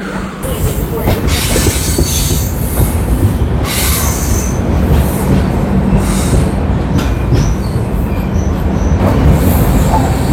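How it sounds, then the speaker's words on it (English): A passenger train pulls into Khed railway station, heard from right outside a coach on the platform: a loud, continuous rumble of rolling wagons with squealing wheels and rattling clatter throughout. "this here is the Khed railway station, and it's going. The halt here is like 2 to 5 minutes, and here's our train."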